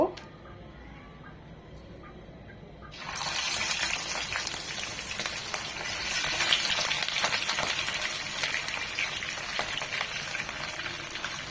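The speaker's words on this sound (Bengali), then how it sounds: "এগুলো এখন প্যানে সর্ষের তেল দিয়েছি ভেজে নেব" Katla fish pieces rubbed with salt hit hot mustard oil in a pan with a sudden loud hiss, then settle into a steady, close crackling sizzle that swells slightly midway and continues without talk.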